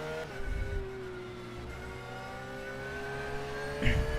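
A race car engine in a sim-racing game at the Spa circuit, a steady harmonic drone whose pitch sags slowly, with a brief louder surge near the end as it passes close.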